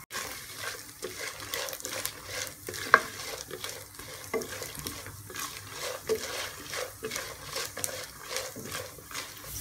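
Chana dal and peanuts roasting and being stirred in a pan, a steady dry rattle and scrape with repeated stirring strokes and a soft sizzle throughout, close and moderately loud, no talking.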